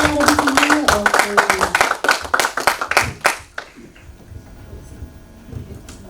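Audience clapping at an awards night for a horror film festival in Bali, a dense burst of hand claps for about three and a half seconds that cuts off, leaving faint room noise and murmuring.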